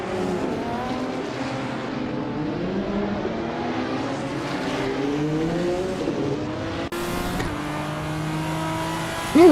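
A 1997 Lotus Elise GT1 race car in a racing video game, its engine droning and rising and falling through gear changes, with a sharp cut midway and a brief squeal near the end; no talk.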